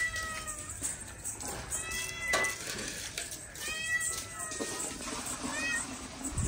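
A kitten meows repeatedly in a home kitchen as lunch is being prepared, with several short high cries scattered across the moment over steady background noise and faint voices.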